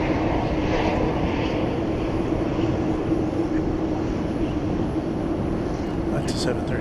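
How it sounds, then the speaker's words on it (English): An American Airlines Boeing 737-800 passes at night at DFW Airport, its steady broad engine roar constant and moderately distant with a faint hum underneath, holding level for several seconds. "That's a 737-800."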